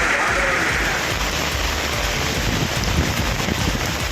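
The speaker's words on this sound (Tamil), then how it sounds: "தென்காசியில் இடி மின்னலுடன் கொட்டித் தீர்த்த கனமழையால் குளிர்ச்சியான சூழல் நிலவியது." Heavy rain with thunder in Tenkasi, Tamil Nadu, a dense steady roar of downpour on surfaces that stays loud and continuous throughout, with no voices.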